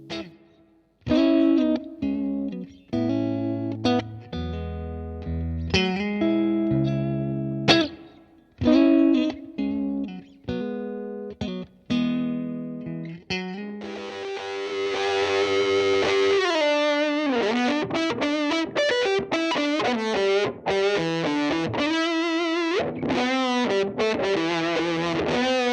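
Electric guitar played through a Fender Mustang GTX100 amp on a custom preset with heavy distortion and effects, starting with choppy chords and stabs, then shifting to sustained lead lines with thick, continuous tone.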